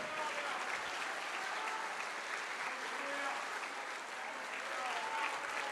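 A church congregation applauds in a dense, continuous wash of clapping that stays steady and loud throughout, with voices mixed faintly into it.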